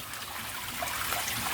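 Water trickles steadily out of the ground outdoors after heavy overnight rain, a soft continuous babbling dribble heard close and fairly quiet throughout.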